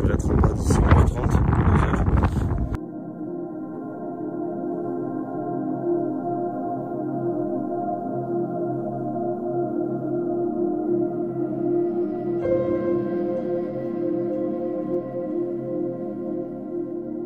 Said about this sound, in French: Là, ça commence à être un peu violent le vent.